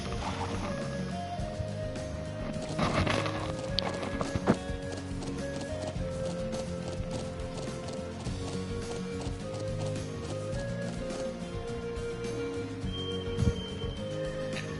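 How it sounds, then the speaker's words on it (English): Horses in the video game Trails of Cold Steel: a soft, steady patter of hoofbeats with game ambience and a few brighter accents, fairly quiet and without speech. "Horses, are you saying?"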